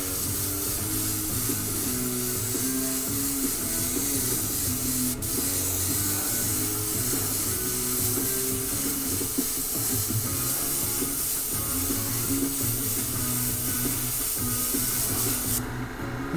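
Airbrush spraying paint through a spiderweb stencil on a skull-and-flames design, a steady close hiss running unbroken under a low mechanical hum, with no talk.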